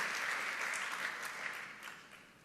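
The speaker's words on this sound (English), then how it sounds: "Let's recognize each other with another big round of applause for your amazing work, dedication, and commitment" Audience applause at a school district State of the District address for Prince George's County Public Schools, a sustained wash of many hands clapping, fairly distant and gradually tapering.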